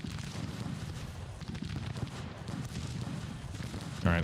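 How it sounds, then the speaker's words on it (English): Artillery fire and mid-air shell bursts from a Civil War strategy game, a dense, continuous rumble of distant booms and blasts layered without pause, with a louder burst near the end. "Artillery is still firing at these troops, even though apparently we can't see them"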